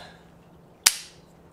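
A single sharp shot from an 1858 Remington percussion revolver, one crisp close crack with a short fading tail, standing alone against a quiet outdoor background.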